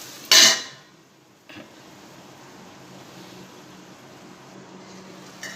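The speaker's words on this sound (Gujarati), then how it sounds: "તો હવે ઢાંકણ ઢાંકી દઈશું।" A metal lid clanks once onto a cooking pot of cluster beans over a low gas flame, a sharp bright strike followed by a soft knock and a quiet, steady kitchen hum.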